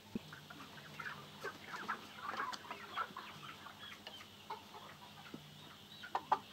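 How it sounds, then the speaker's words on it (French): Three-month-old pullets clucking softly and repeatedly, with scattered short calls and chatters from a small flock of young hens close by. "les poulettes. Voilà, elles ont 3 mois."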